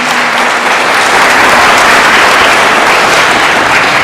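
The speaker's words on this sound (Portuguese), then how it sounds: "uma salva de palmas para os nossos dizimistas" Congregation applauding the tithers during a parish broadcast at Nossa Senhora das Graças church in Sarandi, PR, a dense, loud, even round of clapping filling the room.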